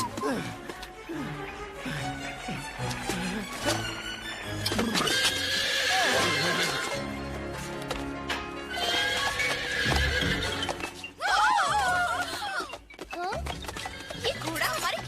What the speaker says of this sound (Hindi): ये घोड़ा हमारे किचन में क्या कर रहा है?